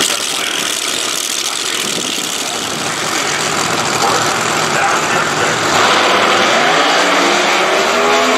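NHRA Pro Mod drag racing cars at Lucas Oil Raceway roar continuously at close range, a dense, harsh engine blare that swells slightly in the second half, with an announcer's voice mixed beneath.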